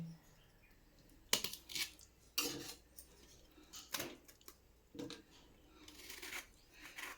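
A spoon stirs a ridge gourd and raw prawn curry in a pot, making intermittent metallic clinks and scrapes in uneven bursts, fairly quiet and close.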